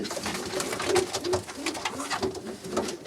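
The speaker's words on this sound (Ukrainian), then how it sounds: "От дивися, голубка." Domestic pigeons at a breeder's loft cooing in soft, rounded repeated calls, several birds close by with overlapping coos and faint rustling, no talk.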